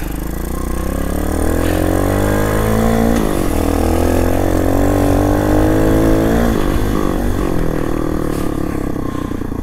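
A Yamaha XT250 motorcycle engine runs loud and close while being ridden, a steady throbbing drone with pitch rising and falling as the throttle is worked, heard alone without talk.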